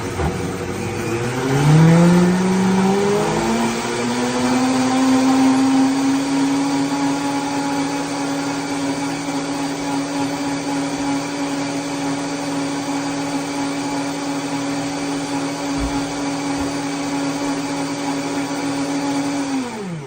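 A blender whirs up from low speed, whining higher as it accelerates, then holds a loud, steady motor drone for a long stretch while blending an oat milk and peanut butter drink, winding down abruptly at the end.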